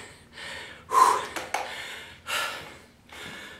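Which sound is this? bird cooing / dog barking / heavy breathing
heavy breathing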